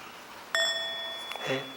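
A meditation bell lightly struck for a soft half sound, a single clear ring that sustains with shimmering overtones and slowly fades, followed by a faint rustle in a quiet room.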